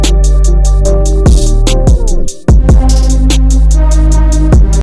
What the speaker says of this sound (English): We are opening up Gross Beat and using the preset Vinyl Off